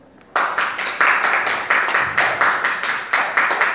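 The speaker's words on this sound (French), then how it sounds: "Applaudissements pour elle et merci." Audience applause for a model walking a fashion show runway: a dense, loud patter of clapping that starts abruptly after a brief quiet moment and carries on steadily in pulsing waves.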